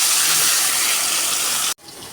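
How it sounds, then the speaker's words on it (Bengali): Fish sizzling as it fries in hot oil in a wok, a loud, steady broadband hiss that runs unbroken and then cuts off abruptly near the end, with no talking. "তো একে একে মাছ আমি ভেজে নেব।"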